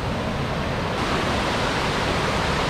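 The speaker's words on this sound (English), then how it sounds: "We're on top of Kravica waterfall," Kravica waterfall in Bosnia and Herzegovina, heard from the top where a small river feeds it: a steady, loud, broadband roar of rushing water that fills the whole span without letup.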